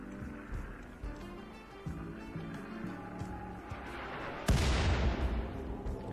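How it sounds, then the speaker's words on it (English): A mortar fires in RimWorld with one sharp, loud boom partway through, which then rolls off into a rumbling decay. Quieter game noises and a low engine-like hum run beneath it. "go man the mortar. And they should fire automatically"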